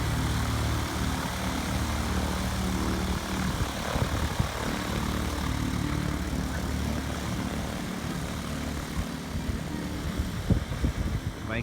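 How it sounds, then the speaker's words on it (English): A Viking 130 engine drives a SeaRey amphibious aircraft with a steady, close propeller drone and low engine rumble throughout, roaring continuously with little variation and a slight rise near the end, no voices. "Viking 130 powered SeaRey."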